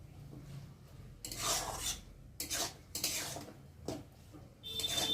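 A spatula scrapes and stirs fish-head cabbage curry in a pan, producing several short rasping strokes against the metal, close up and quiet, with brief pauses in between.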